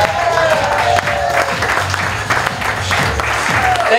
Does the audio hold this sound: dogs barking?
no